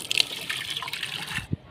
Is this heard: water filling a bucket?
yes